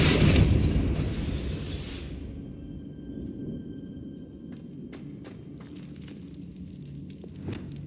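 A Depulso force spell cast in the Hogwarts Legacy video game lets out a loud, full-bodied blast that fades into a low rumble. Faint sparkling clicks and ticks follow toward the end.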